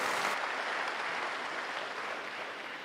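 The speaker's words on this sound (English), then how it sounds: "Let's give him a round of applause" At a university investiture ceremony for a new vice-chancellor, a large crowd claps in a steady, even roar of applause, heard from some distance without voices.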